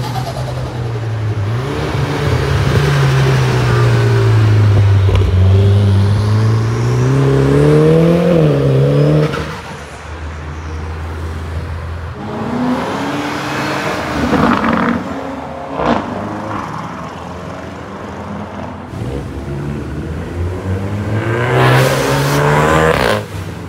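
An Aston Martin Valhalla on a city street in Singapore revs loudly and close by, its pitch sweeping up and down in rising pulls. After a dip it returns with more throttle blips and sharp bursts against crowd and street noise.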